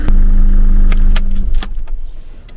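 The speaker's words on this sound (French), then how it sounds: "Faut que j'éteigne le camion pour que tout le monde puisse monter." A truck engine idles with a low rumble, then cuts out while keys jangle sharply up close, the metallic clinks continuing as the motor falls quiet.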